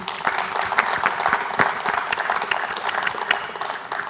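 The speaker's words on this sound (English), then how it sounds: "so round of applause" Sustained audience applause closes a plenary panel session at a veterinary congress in Melbourne: dense, steady clapping from a large crowd, fairly near, lasting the whole stretch with no speech over it.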